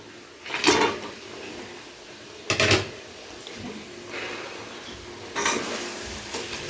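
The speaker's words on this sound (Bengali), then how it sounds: "ভেজে রাখা মাছের মাথাগুলো দিয়ে সমস্ত কিছুর সাথে ভালো করে কষিয়ে নেব" Fried fish heads tossed with soft ridge gourd in a pan, with three distinct bursts of scraping and clattering from a spatula against the pan over a faint background sizzle.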